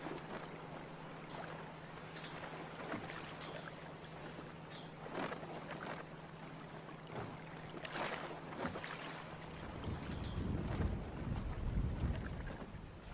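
A junk-rigged sailboat tacks through the wind, with water lapping and wind buffeting the microphone, a low hum at first, then a swell of louder rushing water and gusts near the end.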